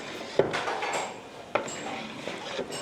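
A spoon stirs rice kheer with raisins in a cooking pot, giving two sharp metallic clinks against the pot amid soft scraping, close and fairly quiet.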